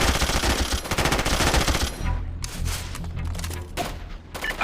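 Automatic gunfire in the tactical Navy SEAL shooter SOCOM Fireteam Bravo, with loud sustained bursts at first that break into scattered shots and distant booms under game effects.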